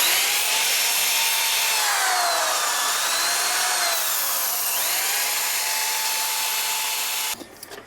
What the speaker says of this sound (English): Then carefully, I'm going to use my wire wheel to clean these.